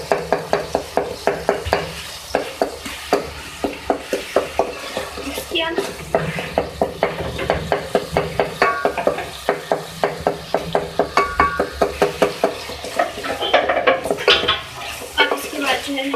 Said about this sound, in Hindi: इसको हम मैश कर लेंगे इस तरीके से, ठीक है। इसको मैश कर लेंगे।